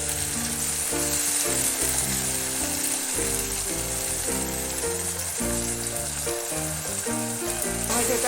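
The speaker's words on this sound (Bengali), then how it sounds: "টমেটোটা একটু ভালো করে ভেজে নেব যাতে কাঁচা গন্ধটা চলে যায়।" Tomato puree frying in a pan for a Punjabi dhaba-style dal makhani, a steady sizzle heard close up under loud music that plays throughout.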